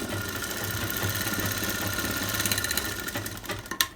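A sewing machine runs steadily, stitching the elastic waistband casing of a bridal sharara, its rapid mechanical whir and motor hum continuous and close before slowing and stopping with a final clunk.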